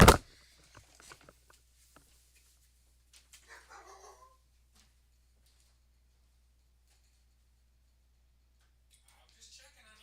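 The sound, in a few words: dogs barking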